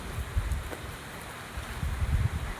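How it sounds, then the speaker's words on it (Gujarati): Heavy monsoon rain in Surat pours steadily over a planted field, a broad wash of noise with low gusty rumbles, no voices over it. "બહુ જ વરસાદ છે."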